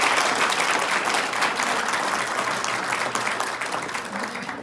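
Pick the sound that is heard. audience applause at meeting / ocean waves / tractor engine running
audience applause at meeting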